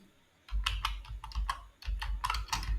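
Typing on a computer keyboard while installing a library for a web project: rapid clicky keystrokes in two bursts separated by a short pause, close and clear with no talk.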